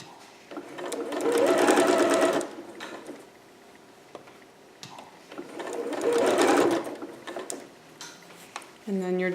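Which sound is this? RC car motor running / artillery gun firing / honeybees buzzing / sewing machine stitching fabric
sewing machine stitching fabric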